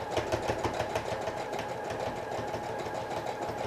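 A sewing machine stitching a pencil skirt runs in a steady, rapid mechanical rhythm with a continuous motor whir and fast repeating needle clicks, close and alone throughout.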